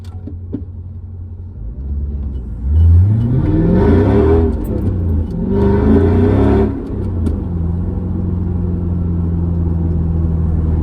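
A Mercedes C55 AMG engine idles with a low rumble, then revs twice at half throttle, each rise lasting about two seconds, before settling back to idle.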